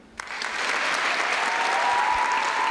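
Spectators at the Miss Belle en Forme NPDC 2025 beauty pageant break into applause. After a sharp first clap, the clapping swells quickly into steady, full applause that continues to the end.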